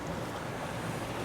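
An Axopar 29 CCX motorboat pulls away from an anchorage in a bay at about 1,400 RPM and 6 knots, heard as a steady, moderately faint wash of water and wind noise with no talking.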